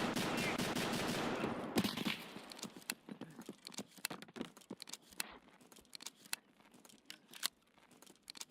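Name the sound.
sniper gunfire in the video game Escape from Tarkov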